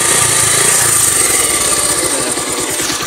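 A motorbike engine runs steadily and loudly close by, its low throbbing rumble continuous throughout with broadband noise on top, no talking.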